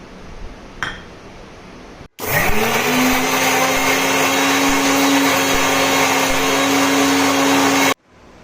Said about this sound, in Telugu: ఇది మిక్సీ పట్టుకోవాలండి బాగా.